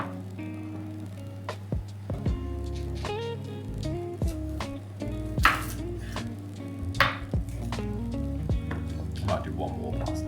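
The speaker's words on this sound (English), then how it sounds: "He's chopping some potatoes, all ready for our roast dinner." Potatoes are chopped on a board in a home kitchen while a roast dinner is prepared, giving a handful of irregular knife knocks under background music.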